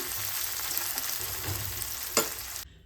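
Whole spices and dried chillies fry for a chicken curry in a pan, giving a steady close sizzle with light stirring and one brief louder scrape near the end before it cuts off.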